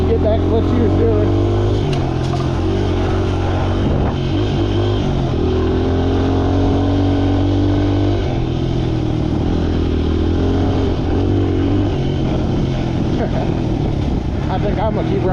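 Motorcycle engine droning steadily while being ridden, with shifting pitch from gear changes and throttle, a voice talking over it throughout.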